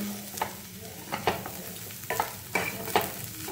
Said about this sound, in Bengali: এভাবে আমি 2 মিনিট ভালোভাবে ভেজে নেব।